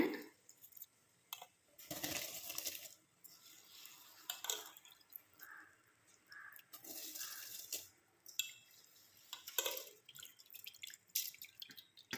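Soaked bullet rice is tipped into a pot of boiling water while making green pea pulao, giving a few brief splashy pours and drips against a quiet kitchen background.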